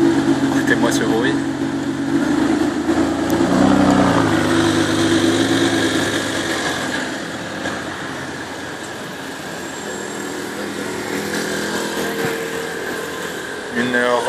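A Ferrari supercar's engine idles and rumbles on a street in Cannes, a steady low drone with shifting tones, while people talk nearby.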